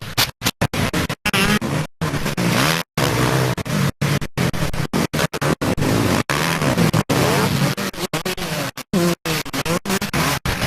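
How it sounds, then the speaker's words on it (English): Dirt bike engines droning as the bikes circle the AJS Raceway motocross track during a 250 race, a steady loud buzzing roar broken by frequent abrupt dropouts. "we're looking at a few dirt bikes getting around the track up here, the AJS Raceway track"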